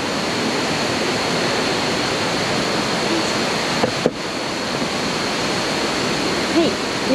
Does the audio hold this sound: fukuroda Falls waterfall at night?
yes